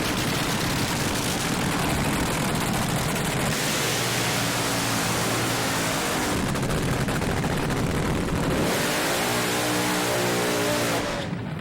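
A nostalgia top fuel dragster engine roars at a hot rod reunion drag race, a loud crackling, thunderous blast that dips and surges again as the throttle is worked, saturating the sound.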